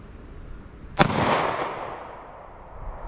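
A single 9mm Remington Golden Saber round is fired into ballistic gel, making one sharp loud report with a rolling echo that trails off over about a second, with no talk.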